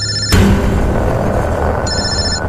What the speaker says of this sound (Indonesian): Sampai aku sedikit terkejut karena suara HP-ku yang tiba-tiba saja berbunyi.